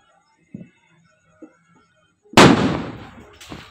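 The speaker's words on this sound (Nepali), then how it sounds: "ल यो बममा आगो लागिसकेको छ" A rhino boom firecracker bomb detonates with one sharp, loud blast and a long rumbling decay, followed by a second smaller pop, after a few faint ticks and near-silence outdoors.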